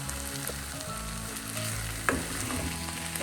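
Drumstick aviyal is stirred in a pan over a soft continuous sizzle, with a low rumble beneath it and one sharp scrape of the spoon partway through.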